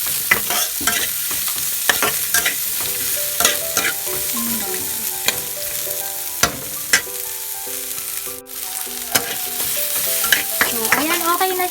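Onion fries in a pan for ginataang laing, taro leaves in coconut milk, with a steady close sizzle broken by repeated sharp scraping and stirring knocks.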